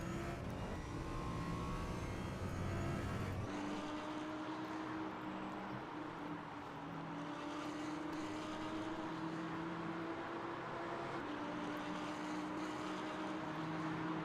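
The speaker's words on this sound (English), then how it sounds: "let's get some nice engine sound, shall we?" A video game racing car engine at the Portimão circuit drones continuously, its pitch climbing and dropping as it revs through gears, steady and fairly loud with no talking.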